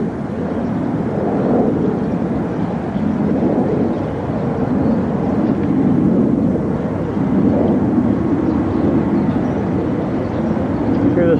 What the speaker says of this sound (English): Hear this fucking jet from behind me.